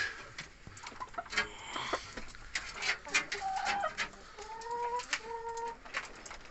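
Hens clucking inside a hen house, several close calls with short tonal cackles and coos following one another, over faint background noise and no talking.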